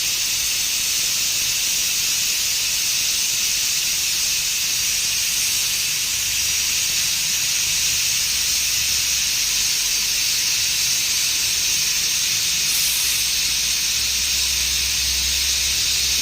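Loud continuous hiss of steam escaping from a pressure cooker whistle while cooking chicken, steady throughout with a low rumble underneath.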